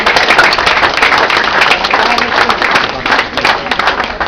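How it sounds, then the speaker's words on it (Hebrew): An audience at a conference breaks into dense, sustained clapping. The applause stays loud and even for the whole stretch, with some faint crowd voices mixed in. "ומגיע להם מחיאות כפיים"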